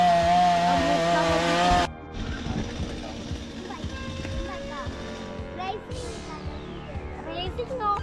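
A chainsaw cuts through a coconut tree during Kerala-style tree removal, whining loudly at first and then dropping to a lower, uneven drone with children's voices and talk over it.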